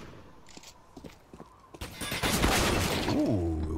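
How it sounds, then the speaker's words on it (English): Gunfire in a Counter-Strike match: scattered single shots at first, then a dense, loud burst of rapid firing with clattering impacts that continues to the end. "Although he'll send some bullets back."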